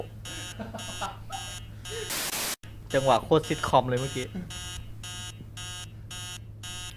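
An alarm clock in the horror game Emily Wants to Play rings in rapid repeated electronic bursts, loud and close, pausing briefly for a harsh noise while someone talks over part of it.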